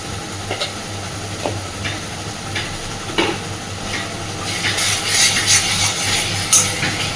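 Pointed gourd paste with turmeric is stirred in a pan, a soft sizzle under intermittent scraping of a spoon that grows busier and louder toward the end, no voices.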